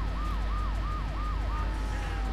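A police car siren wails in the video game GTA 3 with a rapid repeating yelp pattern, steady and prominent over a low engine and road rumble.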